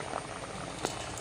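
Water boiling in a pot with pieces of plantain cooking in it, a quiet steady bubbling and patter lasting about a second, with no talking.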